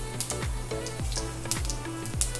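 Peppercorns, fennel and cumin seeds frying in hot oil for a crab roast curry, a soft continuous sizzle with regular stirring knocks against the pan, close and alone.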